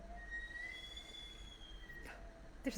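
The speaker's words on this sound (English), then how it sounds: "there's like a train outside. It sounds like." A train passing outside, heard faintly from indoors: a low rumble under high, drawn-out wheel squeals that rise and fade, with a few clanks near the end and no talking.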